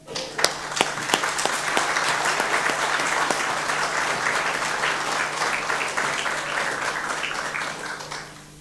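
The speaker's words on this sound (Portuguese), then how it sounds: "Para ele, uma salva de palmas." A room full of people at a carnival event on Terceira breaks into sustained applause, starting with a few sharp claps and swelling into a dense, even patter before tapering off.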